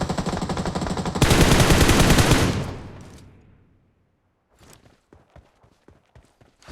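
Loud rapid gunfire rattles in a dense burst, then trails off into silence, followed by a scattering of sharp, quieter snaps and clicks.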